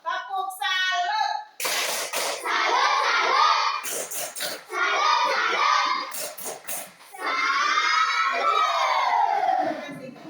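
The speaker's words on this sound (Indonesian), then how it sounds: "Kita sama-sama memberikan tepuk salut buat kelompok 1. Ayo, tepuk salut." A classroom of students chants a tepuk salut cheer together, loud and rhythmic. Group shouts are broken by sharp percussive claps, and the voices rise and fall as the cheer goes on.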